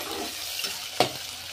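Spices, tomato and coriander for chicken biryani frying in oil are stirred in a pan. A soft, steady sizzle is broken by a sharp scrape of the spoon partway through, quiet and close.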